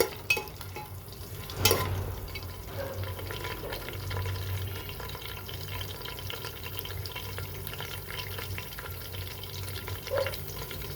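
Green chillies and curry leaves frying in oil with cumin for a mutton curry, a soft steady sizzle with occasional spoon clatters against the pan.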